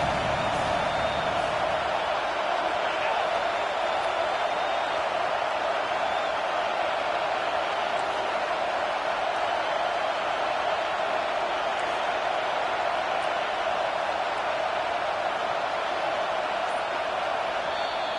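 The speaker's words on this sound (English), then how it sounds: "this crowd is tearing the lid off this place" A football stadium crowd at an Alabama NCAA game roars in a steady, dense wash of cheering and noise that holds loud and unbroken throughout.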